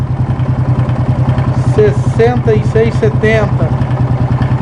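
A Yamaha Fazer 250 motorcycle engine with a suspected faulty spark plug cable idles with a steady, rapid mechanical throb and clatter, loud and close, while someone speaks over it.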